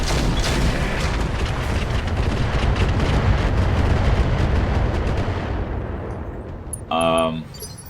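A barrage of heavy weapons fire and explosions in the mech game Roguetech rumbles continuously as booming blasts pile up and slowly fade, followed near the end by a short, clipped voice transmission.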